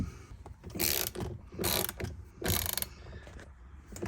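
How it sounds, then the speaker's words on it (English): A big bolt on an Audi TT dash is undone with a ratchet, giving several close bursts of metallic clicking and ratcheting separated by short pauses. "So we need to undo this big bolt here."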